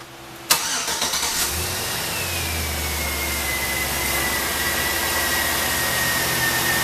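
A Chevrolet Silverado 1500 engine cranks with a sharp burst of starter noise, then catches and settles into a steady, close idle with a faint whining tone above it, running alone with no talk.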